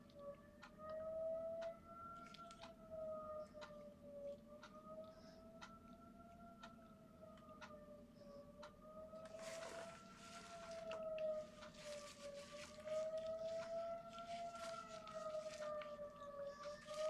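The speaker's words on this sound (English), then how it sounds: "I don't know if you can hear the siren, it's still going off." A civil defense style siren wails steadily in the distance, faint and muffled as heard from indoors, its sustained tone rising and falling slowly for the whole stretch, with a few light ticks over it.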